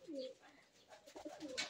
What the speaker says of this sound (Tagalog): Yan ang mga ibon natin.